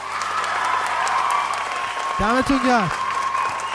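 An audience applauds steadily after a rap battle, its clapping and crowd noise filling the room, while a voice briefly speaks over it near the end.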